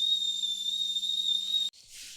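A pressure cooker steaming idli blows a steady, shrill whistle that cuts off abruptly near the end, replaced by a short hiss of escaping steam.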